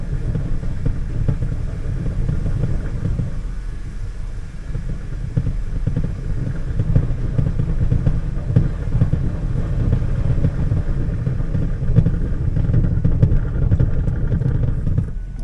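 A 2002 Dodge Ram 2500 pickup with a 5.9L engine and 46RE automatic transmission drives along, giving a steady, loud, low engine rumble with road noise that holds throughout, with no talking.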